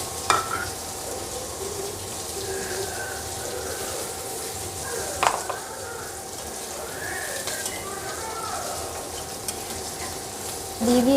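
Food being sautéed and stirred with salt in a pan gives a steady close sizzle for the whole stretch, with scraping stir strokes and one sharper clack of utensil on metal midway.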